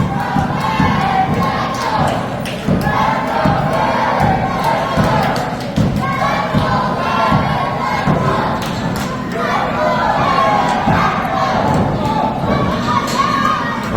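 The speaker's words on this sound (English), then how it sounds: "Crowd trying to bring Derek alive." A pro wrestling event crowd roars and shouts steadily for a wrestler throughout, with thuds of bodies hitting the ring mat punctuating the dense, loud arena noise.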